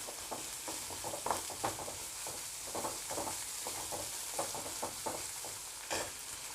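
Onions with salt fry in a pan already used for prawns and eggs, a soft continuous sizzle broken by regular scraping strokes of a stirring spoon, fairly faint and without talk.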